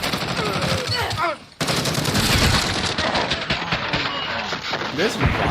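An M91 light machine gun in Call of Duty Modern Warfare fires long, rapid automatic bursts, loud and close, with a brief gap and voices talking over the shooting.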